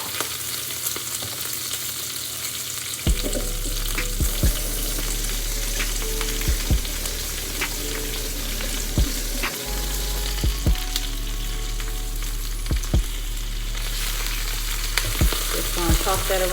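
Spinach sizzles in olive oil on a griddle set to 350, a steady broadband hiss with scattered sharp pops and crackles throughout, close and fairly loud with no voices.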